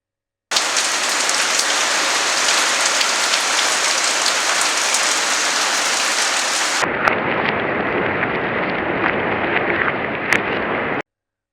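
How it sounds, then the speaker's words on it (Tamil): Heavy monsoon rain pours down in Bangalore as a steady, loud wash, with thunder rumbling through the downpour; the roar narrows partway through but continues unbroken until it cuts off. "இங்கே பெங்களூரில் வந்து பார்த்திங்க அப்படின்னா ரெண்டு நாளாக மழை நிற்கவே இல்லை"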